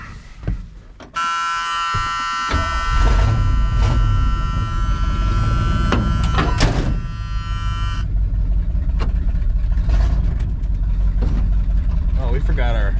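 A 1979 Ford F150 pickup engine cranks over with a whining starter buzz, then catches and runs with a loud, low rumble that stays steady to the end, while people talk over it.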